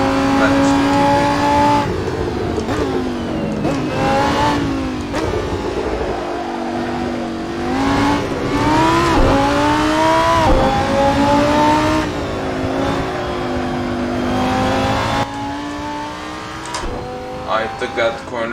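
A racing car engine in the Assetto Corsa video game revs loudly and without a break, its pitch rising and dropping sharply through shifts and corners.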